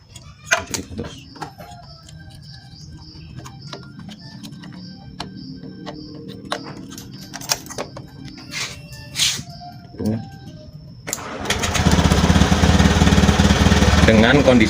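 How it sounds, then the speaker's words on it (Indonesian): Motorcycle engine idling after its ECU connector is checked, a faint uneven putter with ticking under a workshop mechanic's talk, then a louder broadband roar swelling up near the end. "Dengan kondisi kontak seperti itu aja motor masih hidup"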